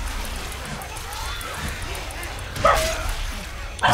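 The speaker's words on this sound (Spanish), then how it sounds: "Mi perro está raro." A pet dog barks indoors during a Left 4 Dead 2 Resident Evil mod session: two short, sharp barks near the end, close by, over constant game noise and background murmur.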